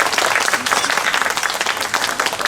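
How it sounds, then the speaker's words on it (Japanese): Audience applause at a Kyoto summer festival hikiyama hayashi music performance on the Yoiyama eve, a dense, steady wash of many hands clapping throughout, with faint voices mixed in. "もう一度大きい拍手をお願いいたします"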